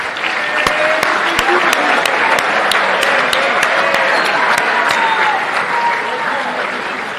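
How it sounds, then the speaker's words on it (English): A crowd at a university athletics awards night applauds the seniors with sustained, dense clapping, some sharper individual claps standing out close by, holding steady for several seconds before easing slightly. "Let's give a big round of applause to all of our seniors."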